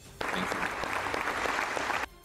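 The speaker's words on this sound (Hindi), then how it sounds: "सभी अपनी कुर्सियों से खड़े हो गए और तालियां बजाकर उनकी हौसला अफजाई की।" Members of the Australian parliament give a standing ovation after Zelensky's address: loud, dense applause starts abruptly, holds steady for about two seconds, then cuts off.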